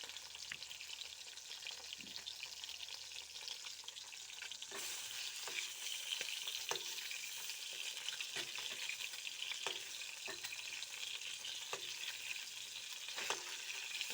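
Fish pieces half-fry in hot oil in a pan with a steady, bright sizzle, punctuated by occasional soft scrapes and clicks of stirring, heard up close and alone.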